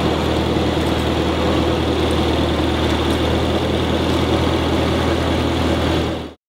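Jaguar Project 8 sports car engine idling, a loud, close, steady rumble with a deep low throb that holds evenly and then cuts off abruptly at the end.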